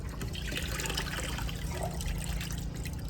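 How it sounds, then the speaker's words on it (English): Water drains out of a PVC pipe system at its lowest point, a steady rushing trickle with a low rumble beneath it and no pauses. "to let out water from both sides of the system"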